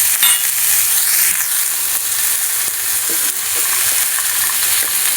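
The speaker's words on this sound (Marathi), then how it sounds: "आपण कांदा आणि टोमॅटो, लसूण सगळं फ्राय करून घेऊया" Onion, tomato and garlic frying in a pan for a spinach paneer masala, a loud continuous sizzle with faint intermittent stirring clicks close by, no talking.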